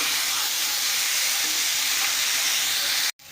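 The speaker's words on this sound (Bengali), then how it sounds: "এখানে আমাদের চচ্চড়ির মশলাটা খুব ভালোভাবে ভাজা হয়ে গেছে" Spice paste for a chorchori of khesari greens sizzles steadily in a pan, a close, even frying hiss that holds for about three seconds, then cuts out abruptly before resuming.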